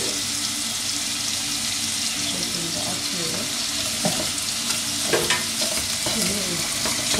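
Flour cooks in oil for béchamel sauce, producing a dense, continuous sizzle with occasional stirring scrapes in the pan, close and fairly loud, without speech.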